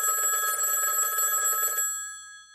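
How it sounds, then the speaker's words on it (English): An internal-line telephone bell rings loudly and continuously for nearly two seconds, then stops and leaves silence behind. "Colonel Turner got a call on an internal phone line"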